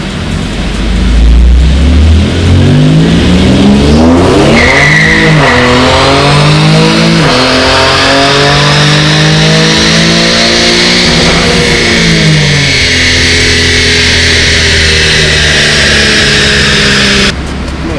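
A manual Infiniti Q50 floored from second gear, its engine roaring loudly as it climbs through the revs, with a shift partway through and a long, sustained pull of rising engine tone, close and intense.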